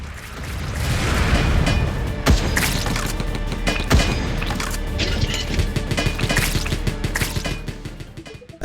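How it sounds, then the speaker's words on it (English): Grenade launcher rounds explode in a roguelike tower defense game, a busy run of thumps and crashes piling over clanking mechanical game sounds. "I have to say the grenade launcher"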